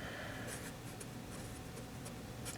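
Pen or pencil writing out a probability calculation on paper or board, a continuous soft scratching with small strokes, quiet and steady, no voice.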